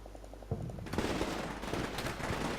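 Gunfire in the Combat Mission: Shock Force 2 war game during a battle in Fallujah: a quiet rhythmic ticking, then dense rapid bursts of shots and crackling fire that carry on steadily to the end.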